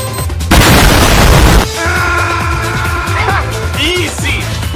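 Grenade blast in the video game Mini Militia, a loud booming burst lasting about a second near the start, followed by rapid gunfire pops and clanks of continued combat.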